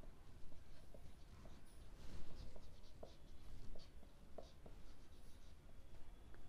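Pen scratching across paper while an accounts problem is written out, a soft continuous scribble with brief strokes and taps, close and fairly quiet with no talk over it.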